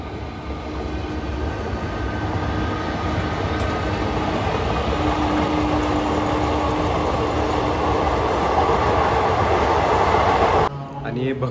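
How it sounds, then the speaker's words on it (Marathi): A train passes outside a building near a temple lodging in Shegaon, heard as a steady, loud, continuous rail rumble that lasts several seconds before ending abruptly. "बाहेर आले बाहेर ट्रेन आहे"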